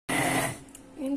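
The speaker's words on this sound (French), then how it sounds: "on va venir prendre notre plongeur et on va mixer" An immersion blender whirs in a short burst while mixing ganache for macarons, loud and close at first, then fading away before starting up again briefly at the end.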